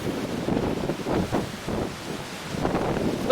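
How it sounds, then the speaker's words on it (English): Roaring hurricane wind from Hurricane Charley's eyewall, a Category 4 storm in 2004, buffeting a microphone in continuous broadband gusts with surges and dips, loud and close with no voices. "We got the eye wall moving in. Wind's gusting probably over 120,"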